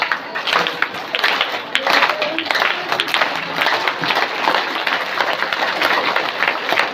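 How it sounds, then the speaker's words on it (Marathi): A village audience at a devotional kirtan gathering claps hands together in a dense, continuous wash of applause, steady and fairly loud throughout with a few sharper peaks. "आता टाळी वाजवली"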